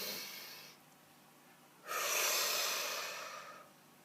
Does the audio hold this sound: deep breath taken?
yes